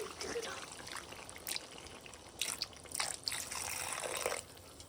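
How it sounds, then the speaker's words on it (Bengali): Water poured and trickling into a pot of chicken curry with potatoes, a soft, fairly quiet splashing and running sound with a few louder gushes. "এবার আমি জল দিয়ে দিচ্ছি।"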